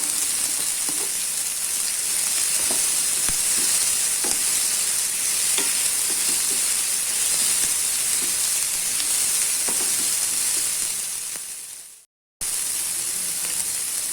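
Vegetables sizzling and frying steadily in a pan while cooking a barnyard millet masala khichdi, a continuous close hiss with occasional stirring taps, briefly cutting out near the end before resuming.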